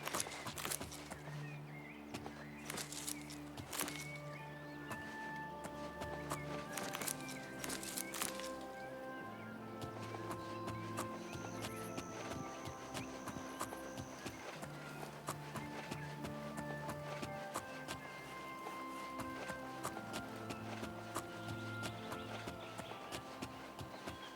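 Hooves of a horse clop steadily in the game Oblivion Remastered, a quiet rhythmic patter of repeated hits beneath sustained fantasy music tones.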